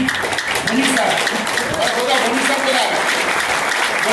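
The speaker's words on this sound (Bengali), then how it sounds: "আরেকবার হাততালি মারুন এখানে" Loud, sustained applause from a crowd at a motivational seminar in Kolkata, dense clapping throughout with a voice speaking over it.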